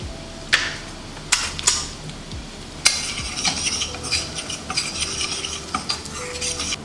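Chili flakes being sautéed in a pan for penne arrabbiata: a steady sizzle with sharp utensil scrapes and clinks against the pan, a few distinct strikes early, then continuous stirring noise, close and without talk.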